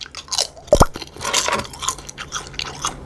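Crispy kaffir lime leaves are bitten and chewed up close in a mukbang, giving sharp crunches followed by quieter, irregular crackling bites over about three seconds, with no talking.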